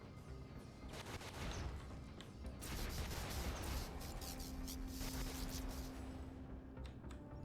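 Video game Brigador combat, with dense rapid weapon fire and explosive bursts in a continuous loud volley, mechanical shots crackling over a low rumble.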